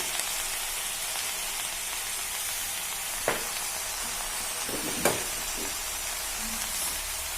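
Ivy gourd pieces fry in a pan with spices, giving a steady close hiss and sizzle with a couple of faint knocks and clinks and no talk.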